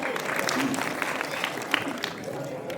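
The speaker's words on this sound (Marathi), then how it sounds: "गावासाठी टाळ्या वाजवा बरं का" Steady applause from a village audience at a kirtan during a Harinam Saptah in Umrad Narsingh, a continuous wash of clapping with crowd murmur underneath.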